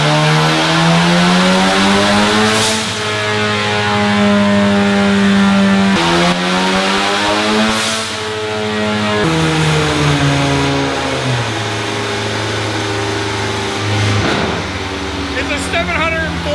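A fully built big-turbo four-cylinder EcoBoost Mustang making around 740 horsepower revs hard on a dyno power run, its engine note climbing through gear changes loud and close for most of the stretch, with people talking over it.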